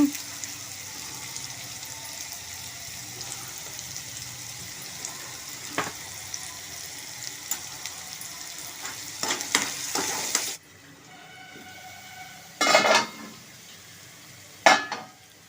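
Onions and green chillies frying in hot oil for a mango and pendalam curry hiss steadily under stirring scrapes, then the sizzle drops away, leaving a few sharp clinks of utensils against the pan.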